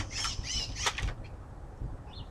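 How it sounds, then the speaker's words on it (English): Close by, several birds flap their wings in quick bursts and give sharp squawks, followed by quieter rustling. "There's the birds."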